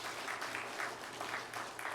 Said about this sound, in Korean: 우리 크게 박수 한번 더 부탁드리겠습니다.